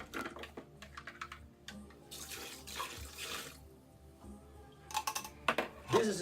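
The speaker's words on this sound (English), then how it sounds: "I always rinse out the can to get all goodies out of there." Tap water runs and splashes into an emptied liquid malt extract can as it is rinsed out for home beer brewing, in quiet intermittent bursts with clinks of the can between pours.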